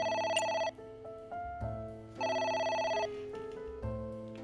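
A synthesized telephone ringtone in the game AI: The Somnium Files chimes in repeated bursts, loud and close, with a steady electronic bell pattern and no voices.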